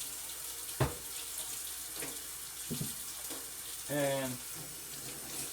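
Cold tap water runs steadily in a sink while a Berkey water filter is cleaned, a faint hiss under a few brief spoken words.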